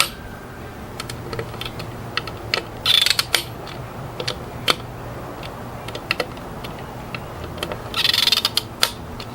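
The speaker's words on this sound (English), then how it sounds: "until the torque wrench pops" Quick, light mechanical clicks and ratcheting from a torque wrench set to 80 inch-pounds tightening barrel screws on a Desert Tech HTI rifle, scattered sharp ticks with two brief denser bursts, close up and without speech.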